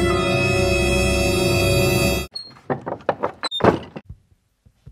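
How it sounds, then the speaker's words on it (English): Knocks on a door ring out after a steady hum cuts off, a cluster of sharp raps and thuds close by, uneven in rhythm, followed by quiet. "as soon as I knock the door"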